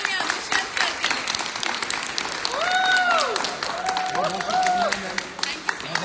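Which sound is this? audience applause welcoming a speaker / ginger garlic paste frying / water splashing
audience applause welcoming a speaker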